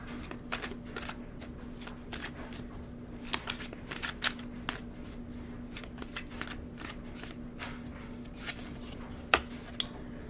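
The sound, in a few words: shuffling and drawing tarot cards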